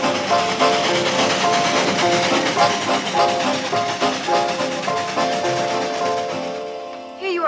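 A train runs steadily for about seven seconds, a dense rumbling and clattering mix that holds at a constant loud level, with music or effects layered over it, before fading slightly near the end.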